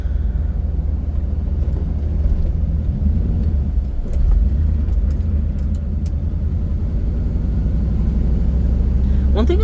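A 1995 Chevrolet Camaro Z28 V8 driving with its window lowered gives a loud, deep engine rumble mixed with wind and road noise, while someone talks over it.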